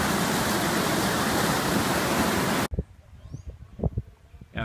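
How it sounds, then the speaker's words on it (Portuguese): Strong mountain wind in the Bolivian Andes buffets a camera microphone, producing loud, steady rumbling roar that cuts off abruptly, followed by quieter gusts and scattered handling thumps. "esse vento, que até deve estar fazendo barulho na câmera, empurra essas nuvens de volta à Amazônia"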